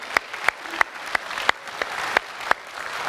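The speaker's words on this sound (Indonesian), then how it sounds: "Boleh tepuk tangan untuk memulai segmen ini?" An audience claps at the second 2019 Indonesian presidential candidates' debate. The claps are sharp and evenly spaced, about three per second, over a low steady crowd hiss and without speech.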